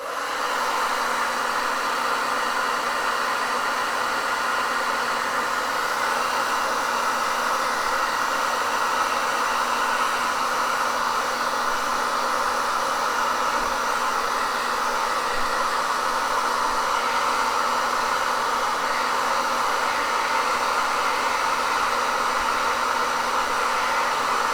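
A hair dryer blows on a piece of artwork with a steady, loud, close whoosh that runs unbroken throughout, with no voices.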